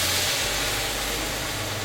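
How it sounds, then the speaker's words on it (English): Dry white wine splashes into a hot skillet of flour-coated pot pie filling with rotisserie chicken, giving a loud, steady steam hiss that holds for the whole moment. "we're going to add in our dry white wine to deglaze"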